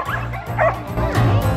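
Several dogs and puppies at a puppy park in New Zealand bark, yip and whimper close by, loud and overlapping with brief yelps.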